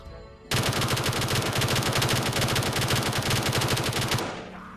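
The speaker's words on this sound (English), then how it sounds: "Wow, that gun is loud. It sounds like it's in my ear" Loud, rapid automatic gunfire from a weapon in Black Ops 3 Zombies rattles continuously for about four seconds, close and dominant, then stops abruptly.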